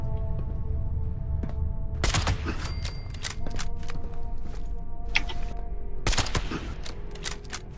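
Short bursts of Gatling gun fire in Fallout 76, with sharp rapid volleys around two, three and six seconds over a steady low in-game rumble, loud and close.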